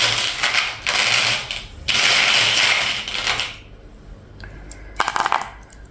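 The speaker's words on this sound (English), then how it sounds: "Let's pull some sacred stones." Sacred stones are pulled from a bag during a tarot reading, making loud rattling and clattering bursts for about three seconds, then quieter clicks and a final sharp clack.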